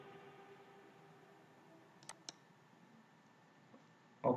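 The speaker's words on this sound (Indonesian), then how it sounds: "Kemudian selanjutnya kita klik OK." Two quick, soft computer mouse clicks close together, confirming an OK button, in an otherwise quiet room with no talking.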